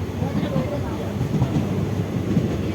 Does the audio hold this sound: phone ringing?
no